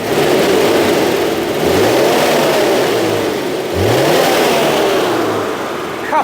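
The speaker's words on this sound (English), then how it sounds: "Give it a couple of revs." Citroën GSA engine revving on a chassis dynamometer in a workshop, loud and close, with two rising blips of revs over a steady mechanical roar.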